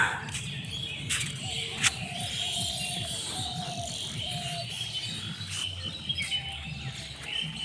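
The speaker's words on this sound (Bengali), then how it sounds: "শুধুমাত্র পাখিদেরই কুহু কুজন শোনা যাচ্ছে।" Birds chirp and call on a foggy morning in the countryside at Palashi, with thin, scattered chirps over a soft rural hush that hold steady throughout.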